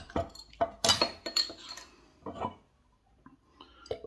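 A bottle of Hoegaarden wheat beer is handled and opened, giving a series of sharp glassy clinks and metallic clicks in quick bursts, close and fairly loud, with short pauses between them and no talking.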